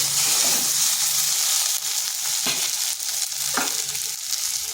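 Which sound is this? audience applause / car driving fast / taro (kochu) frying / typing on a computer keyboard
taro (kochu) frying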